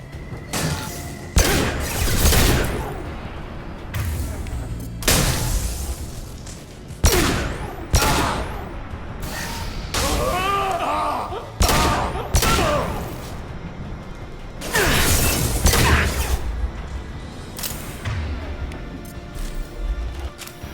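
Gunfire in the sci-fi shooter Mass Effect 2: repeated loud bursts of automatic weapon fire and booming shots in clusters, broken by brief pauses with a voice or two and game effects between volleys.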